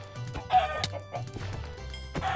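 Chicken clucking from the video game Minecraft, a few short clucks and squawks in an irregular pattern over low background game music, close and fairly clear.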